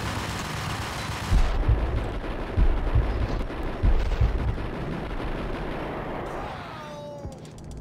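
Grenade explosions in the Max Payne 3 video game boom loudly and repeatedly amid a dense roar of gunfire and rumbling combat, with several heavy blasts spaced through the sequence before it thins out near the end.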